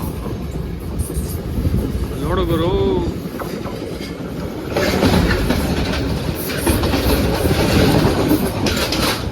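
A train on a Sri Lanka railway rolls past with a steady rumble and rhythmic wheel clatter that swells louder partway through, while someone talks over it.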